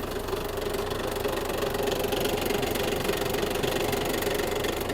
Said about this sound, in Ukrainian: Кардан крутиться, ножі працюють.